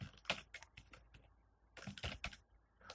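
Code is typed on a computer keyboard for a Java web project, a quick close run of soft key taps in two bursts separated by a short pause, faint and with no speech.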